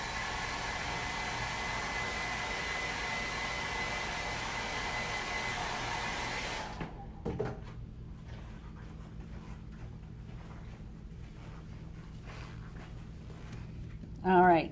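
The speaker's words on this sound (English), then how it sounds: "So I'm going to very quickly blow dry it." Hair dryer blow drying white paint on a canvas, a steady broadband whoosh that runs for about seven seconds and then cuts off abruptly, leaving quiet room tone with a brief burst of sound near the end.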